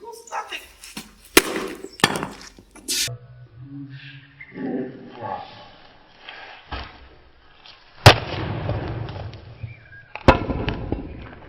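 A mallet smashes a motorcycle helmet in repeated sharp, loud cracking blows, spaced irregularly, with a voice talking between impacts and crunching debris after each hit.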